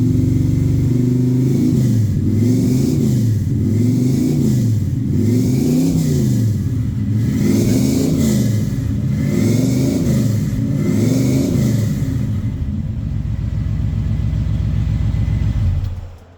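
A 1971 Chevrolet C20 truck engine revs hard after a cold start, loud and close, in a rhythmic series of rising and falling pulls before settling into a rough idle near the end.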